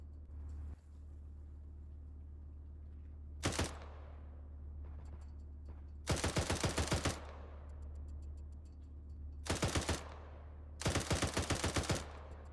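Nearby automatic gunfire in Arma 3 military simulation gameplay, several loud rapid bursts of shots, each lasting about a second, over a steady low engine rumble.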